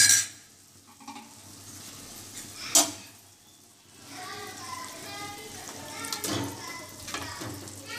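Chicken gravy masala frying in oil in a pan, with soft sizzling and occasional stirring scrapes and clinks heard up close, moderately quiet with brief louder bursts.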